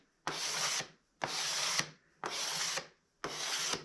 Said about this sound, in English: I'm just going to scrape this until it looks like I see wood